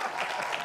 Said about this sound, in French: applaudissez-lui, lui là